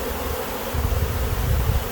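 Honeybees in a hive sample box made up of young nurse bees, giving a steady, dense low buzzing hum that swells slightly in the second half, close and continuous with no talking.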